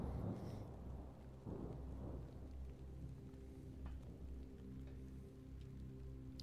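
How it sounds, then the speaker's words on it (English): Steady rain in the video game Hollowbody hisses and patters in a low, constant wash, with a deep rumbling underneath and no talking. "The rain doesn't sound too aggressive."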